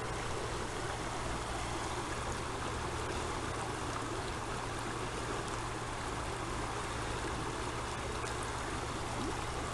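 Healthy river in Connemara flowing steadily, a dense continuous rush of water that stays even and fairly loud throughout with no voices.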